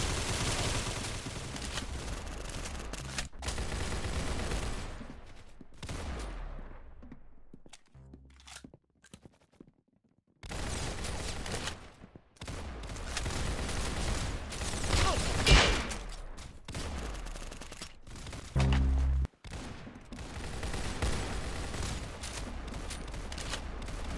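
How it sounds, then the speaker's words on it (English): Video game gunfire rings out in dense bursts over a steady backdrop of game sound, dropping out briefly midway before loud shots and impacts return, with no voices in the mix. "Very good shooting."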